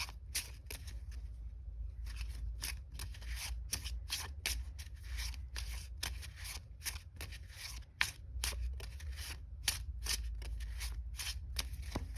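Playing cards are shuffled over and over, a run of crisp riffling bursts with short pauses between, recorded close up and quiet.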